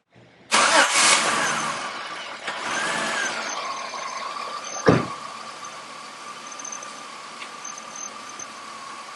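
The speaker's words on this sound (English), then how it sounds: "Now let's start the car and see what happens." A car engine cranks and catches after a brief silence, then settles into a steady idle close by, with a single sharp clunk partway through and a quiet hum continuing to the end.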